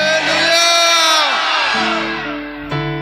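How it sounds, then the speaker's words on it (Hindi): A crowd at a worship gathering lets out one long, loud collective shout on command, many voices blending into a sustained roar that slowly fades, with a few voices still holding on near the end. "जोर से चिल्लाए, 1 2 3।"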